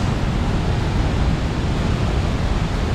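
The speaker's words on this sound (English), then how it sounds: "We are at the base of the river or the waterfall." Waterfall at the base of a river, a dense, loud, steady roar of rushing water filling the whole sound, with no voices.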